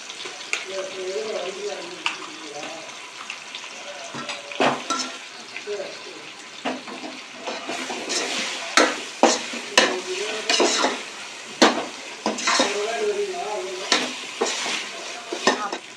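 Ginger and garlic fry for chicken biryani in a pot, a steady loud sizzle broken by repeated scraping and clanking stirs of a utensil against the metal, close and continuous with no speech.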